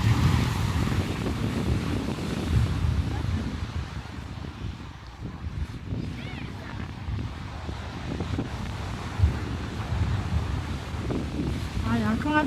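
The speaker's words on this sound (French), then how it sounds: "Il y a un peu de vent, hein. J'ai pas mis les micros." Gusty wind buffets the microphone with low rumbling bursts throughout, while a person talks intermittently underneath.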